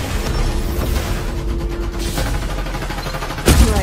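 Game gunfire in the battle royale Farlight 84, a dense continuous burst of rapid shots over a busy mix, with a louder blast near the end.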